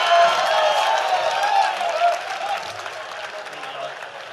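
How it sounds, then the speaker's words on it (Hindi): Applause and some cheering from a crowd at a live poetry event in Varanasi as poet Anamika Jain Amber is welcomed on stage, a loud clapping wash that eases off partway, with voices mixed in. "फेमस कवित्री अनामिका जैनंबर जी का जोरदार तालियों के साथ मंच पर स्वागत कीजिए"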